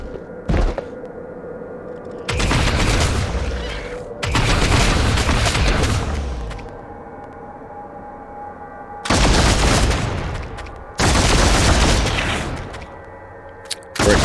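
Heavy gunfire bursts from Warhammer 40k: Deathwatch, a Tyranid invasion battle, with booming broadband volleys of several seconds each, separated by quieter stretches of rumbling background.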